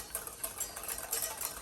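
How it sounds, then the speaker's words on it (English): Cold milk whisked by hand for a Dolly Parton cake, giving a faint, steady run of quick scraping strokes in a quiet room, with no talking. "Oh, I'm whisking now. I'm whisking."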